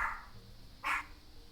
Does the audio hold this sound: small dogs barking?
yes